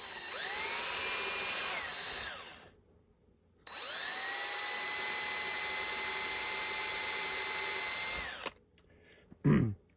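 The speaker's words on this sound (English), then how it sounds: "So then we go ahead and drill some holes." A power drill boring holes in a workshop whines at a high pitch in two long sustained runs separated by a short pause, then spins down, followed by a brief clatter.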